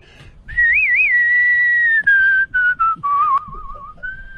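A man whistles a theme close to the mic during a radio studio interview. The melody is shrill and wavering, with vibrato trills and short breaks between the notes.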